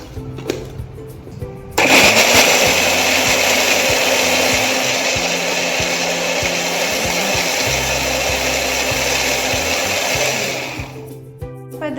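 A blender purees chopped tomatoes for a nachos recipe, starting abruptly about two seconds in as a loud, steady whirring roar that runs for roughly eight seconds before winding down near the end.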